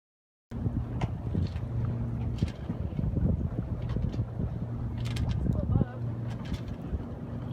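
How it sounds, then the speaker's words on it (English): Steady wind roars and buffets across the microphone aboard a sailboat anchored off Catalina Island, a continuous low rumble with gusting swells and faint voices in the background. "Also, there's wind."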